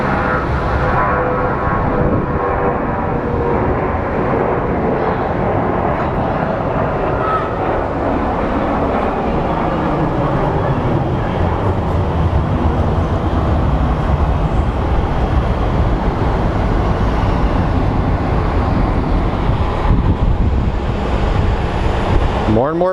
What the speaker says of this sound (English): More and more planes coming in.